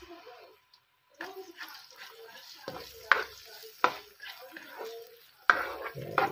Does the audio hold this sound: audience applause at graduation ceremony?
no